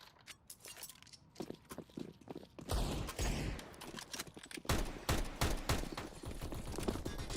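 Gunfire in the video game Counter-Strike: Global Offensive during a competitive match, with rapid bursts of sharp shots and clicks that grow denser and louder after the first few seconds, continuing in quick volleys.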